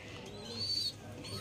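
Pigeons kept in a home loft give a soft, low cooing under a faint warbling call, with room ambience and murmured speech-like sound in the background.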